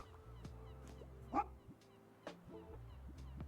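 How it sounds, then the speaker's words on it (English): A stray dog in Tiny Bookshop gives a short, honking bark, close and clear, standing out briefly above soft, steady game background sounds. "Good dog."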